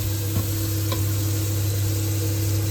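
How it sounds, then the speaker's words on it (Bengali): Tomato paste cooking down in a pan over a gas flame before meat is added, a continuous close sizzle with stirring under a steady hum, without anyone speaking. "এবার টমেটো পেস্টটা দিয়ে দেবো এর মধ্যে। টমেটো পেস্টটা কষিয়ে তারপরে মাংসটা দেবো"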